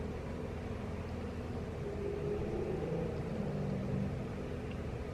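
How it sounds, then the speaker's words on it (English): A truck idles outside a window, a low, steady, muffled engine rumble heard from indoors, constant and fairly faint with no talking. "There's a truck outside my window."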